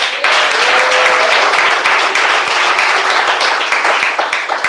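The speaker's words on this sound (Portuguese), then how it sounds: "Palmas." Church congregation clapping together, a dense, loud burst of applause filling the room almost continuously, with a brief tonal voice or organ hint early on.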